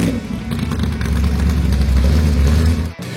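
A Dodge car with a 7.2-litre, 600-horsepower engine revs loudly and close by, a deep sustained growl that stays strong for a few seconds before briefly dipping at the end.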